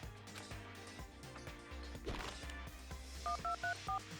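Phone dialing in the video game Danganronpa 2: a short run of about four evenly spaced keypad tones, clear and fairly loud over steady game music with thuds and clatter.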